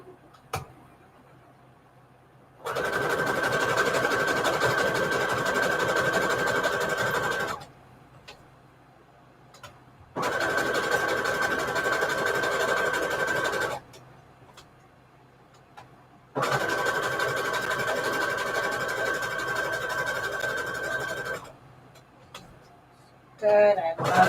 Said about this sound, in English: let's sew all the way around the edges. Zigzag stitch.